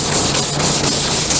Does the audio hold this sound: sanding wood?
yes